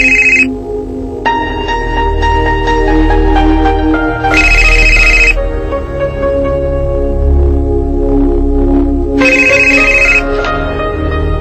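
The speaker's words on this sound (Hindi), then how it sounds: "शायद अस्पताल से रजब का फोन हो।" A telephone rings in repeated electronic bursts with short gaps between them, loud and close over a low background hum and music, with no one speaking.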